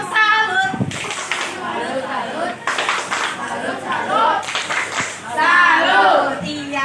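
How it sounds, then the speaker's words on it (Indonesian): A group of children claps together in the "tepuk salut" routine, rhythmic bursts of hand claps mixed with chanting voices, loud and close, in repeated patterned phrases. "Tepuk salut dulu kelompok L."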